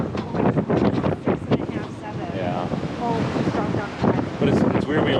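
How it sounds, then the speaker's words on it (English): Strong wind buffets the microphone aboard a sailboat in whitecapped seas, a loud, gusty roar with surging bursts and water noise, with a voice speaking through parts of it. "this wind is howling"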